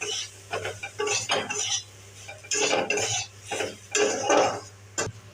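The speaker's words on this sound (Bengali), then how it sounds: "এবার আমি নাড়ছি।" Spices with ground coriander being stirred in a pan for a spicy amudi fish curry with potato and eggplant, repeated scraping strokes of a utensil against metal in irregular bursts over a faint sizzle and a steady low hum.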